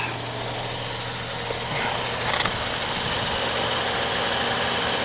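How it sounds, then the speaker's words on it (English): A 2014 Ford Escape 1.6 engine idles steadily with its electric cooling fan running, a constant broadband whir and low hum heard up close from underneath the car, with a faint clink partway through. "Ah, the fan's on."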